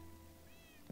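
A cat meows in the Minecraft video game, a short rising-and-falling cry heard faintly under steady background ambience, followed by a brief soft thump near the end.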